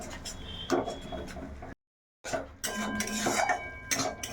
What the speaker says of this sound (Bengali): এবারে এই মশলাটা আবারও ভালো করে একটু কষিয়ে নেব